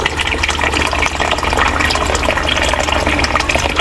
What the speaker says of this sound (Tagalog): Yan, madidrain na yan. Bababa na lahat ng tubig yan.